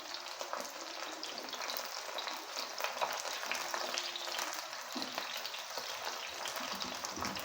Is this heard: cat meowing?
no